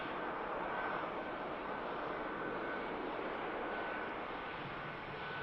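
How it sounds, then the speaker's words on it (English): A jet airliner rolls along the runway at Manchester Airport, making a rapid exit, heard as a steady, distant broadband roar that holds level throughout without distinct peaks. "Aircraft making the rapid exit."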